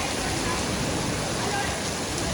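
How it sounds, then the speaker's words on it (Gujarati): Heavy rain pours down steadily with hail mixed in, a dense close roar of water hitting surfaces that holds at a constant loud level throughout. "વહીધો છે ફૂલ વરસાદ."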